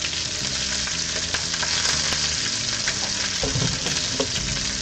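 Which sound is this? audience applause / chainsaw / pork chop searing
pork chop searing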